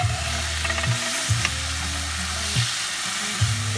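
Sliced beef stir fry sizzles loudly in a pan with a thickening Sichuan-style sauce, a constant close hiss broken every second or so by a low clunk as the pan is stirred or tossed.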